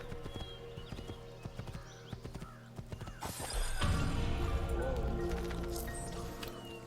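Horse hooves clip-clop steadily in the video game Assassin's Creed II, then break into a louder galloping rush with rumbling movement, close and prominent with no talk over them.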